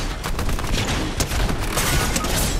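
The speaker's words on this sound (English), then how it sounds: "Yeah, it's the explosive repeater rifle." An explosive repeater rifle fires in Fortnite, producing a dense, loud burst of rapid gunfire and booming blasts that runs continuously throughout.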